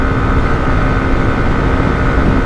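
Hero Xtreme 125R motorcycle engine running at speed in fifth gear: a steady, loud, continuous drone with wind roar, unbroken for the whole stretch.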